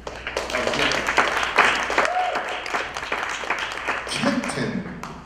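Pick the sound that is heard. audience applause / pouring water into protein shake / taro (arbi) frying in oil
audience applause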